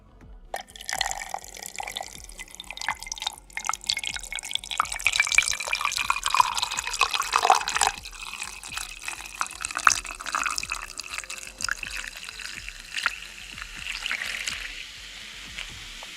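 Liquid pours steadily for several seconds, a continuous close trickle with small dripping and splashing accents that swells and then thins toward the end, with no talking over it.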